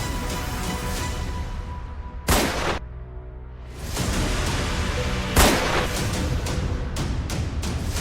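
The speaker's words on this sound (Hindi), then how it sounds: "जो गोली चला रहे हैं वो ही वीडियो भी बना रहे हैं।" Several sharp cracks of gunfire ring out during a road chase and shootout with cattle smugglers in Palwal, Haryana, over a heavy roar of wind and engine noise from fast-moving vehicles. The shots come in irregular single bursts, and no one speaks.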